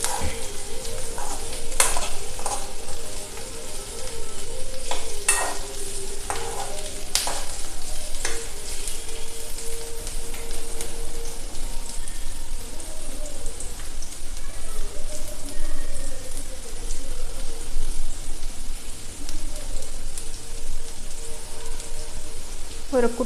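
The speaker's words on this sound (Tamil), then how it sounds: "அதை போட்டுட்டு அதையும் நல்லா வதக்கிப்போம்." Beetroot pieces sautéing in a hot pan, a steady close sizzle and frying crackle running throughout with a few sharp clinks of utensils near the start, and no talking.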